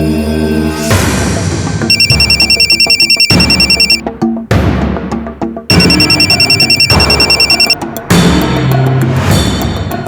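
A phone rings over and over with no answer, its repeating electronic trill sounding in bursts over dramatic background music, with no one speaking.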